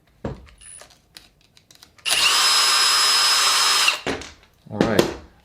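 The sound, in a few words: power tool backing out a screw on an Arrma Talion RC car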